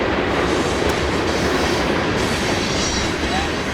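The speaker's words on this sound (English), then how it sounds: "There's a train in the background" A train rolls past in the background near a golf course, a loud, steady rumble and rattle of rail cars that fills the whole stretch without letting up.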